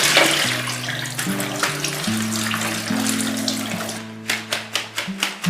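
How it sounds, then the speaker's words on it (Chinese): Chinese yam rinsed under a running kitchen tap, a steady wash of water partly masked by background music with a rhythmic beat. "将淮山冲洗一下"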